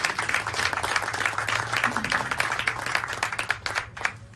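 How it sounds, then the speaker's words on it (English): Crowd hand clapping at an outdoor groundbreaking ceremony for new apartment buildings: a steady, moderately loud patter of many hands sustained across the clip, with a low hum underneath. "isn't that a hand clap there?"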